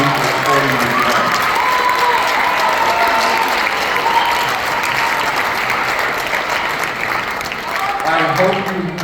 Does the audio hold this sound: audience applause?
yes